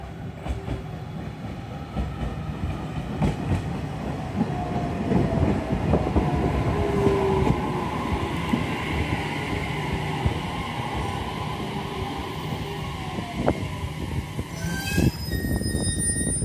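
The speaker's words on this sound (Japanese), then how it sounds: "宮崎空港行きの普通列車到着です。" A JR Kyushu local train pulls into a seaside station on the Nippo Line, a steady rumble of wheels and carriages with faint clickety-clack and a brief squeal and chime near the end, heard from nearby.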